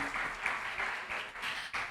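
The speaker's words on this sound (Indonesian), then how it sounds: "Tepuk tangan sekali lagi teman-teman untuk Mandy." An audience at a speech competition claps for a speaker, a soft, somewhat distant round of applause that swells and dips in uneven waves.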